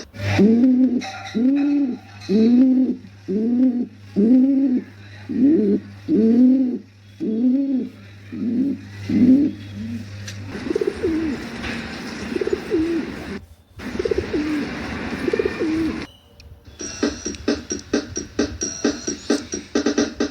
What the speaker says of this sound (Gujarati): ગુગુ ગુગુ કરું છું, ગુગુ ગુગુ કરું છું. બોલો ભાઈઓ કોણ છું? કબૂતર.